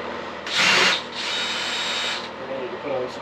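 A cordless power drill whirs in short bursts during a sailboat renovation, starting loud and close, pausing, then running steadily again over a hollow background hum.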